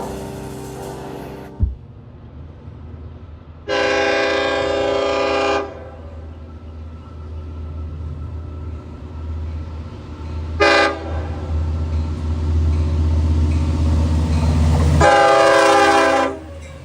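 An LIRR DM30AC diesel locomotive passes with a heavy steady rumble, sounding several loud horn blasts of a few seconds each, plus a short toot, over continuous rail noise.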